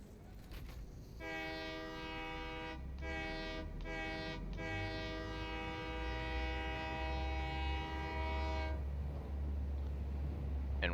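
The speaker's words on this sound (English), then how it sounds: "And while the train is going back" A train in a video game sounds a long multi-tone horn, briefly broken twice and then held for several seconds, over a steady low rumble of movement that carries on after the horn stops.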